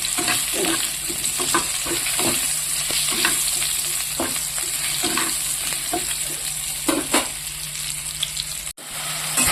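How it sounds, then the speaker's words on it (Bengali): Potatoes and cauliflower being stir-fried in a pan for a Bengali home-cooked meal give a steady close sizzle, broken by repeated scraping knocks of a spatula stirring the vegetables, with a brief dropout near the end. "তো দিয়ে দিয়েছি আলু আর ফুলকপিটা কষানোর জন্য ভালো করে কষিয়ে"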